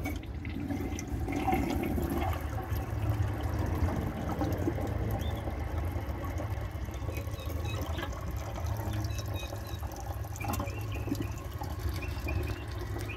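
A 2011 Kohler Rialto Ingenium toilet flushes a second time, a steady close rush and gurgle of water that carries on as the tank refills, with no talk.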